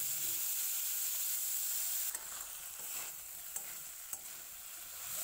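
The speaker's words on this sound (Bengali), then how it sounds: "তারপরে নুন হলুদ মাখানো মাছগুলো দিয়ে সুন্দর করে ভেজে নেব।" Shrimp coated in salt and turmeric frying in white oil, a steady close sizzle with a few soft stirring clicks partway through, no voices.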